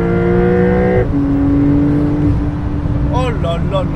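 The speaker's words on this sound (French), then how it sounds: "vous entendez ce bruit du relâchement du turbo, moi j'adore" A Porsche 911 (992) Carrera 4S engine rumbles steadily, its tone dropping as the throttle lifts, then short whooshing turbo-release chirps sound near the end while someone talks excitedly over it.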